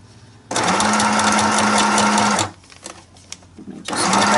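Sewing machine stitching up the bottom of a plastic stencil pocket: a loud, steady mechanical whir runs for about two seconds, stops, then restarts briefly near the end, close and alone.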